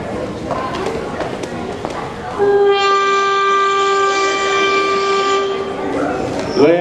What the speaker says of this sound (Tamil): ட்ரெயின் கிளம்ப போகுது